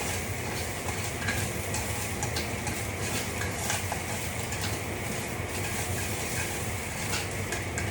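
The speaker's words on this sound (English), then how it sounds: "I'll warm up the bellflower root. And it only takes a second because the pan is so searing hot" Bellflower root sizzling in a searing hot dolsot stone pot with oil, a dense, steady hiss and crackle of frying under faint stirring, close and continuous throughout.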